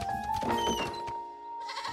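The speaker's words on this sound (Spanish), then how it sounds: "Así es como se les dice a las cabras bebés." Newborn kid goats on a farm bleat in a few short, wavering cries close by, with a dull thunk near the start and no talk.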